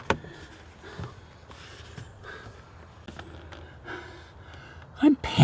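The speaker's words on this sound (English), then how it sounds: "I'm panting and working up a sweat, wrestling with a steering wheel cover." Heavy panting and gasping breaths from someone wrestling a steering wheel cover into place, with rustling and a few soft knocks, then sharper thumps near the end.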